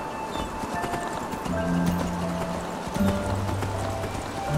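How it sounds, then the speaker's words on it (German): Rhythmic clip-clop hoofbeats from a horse ridden at a steady pace in the fantasy game Enderal, fairly close and even, with a soft musical backdrop and a sustained tonal layer beneath the trotting. "Komm, auf Eselchen, wir reiten mal dahin."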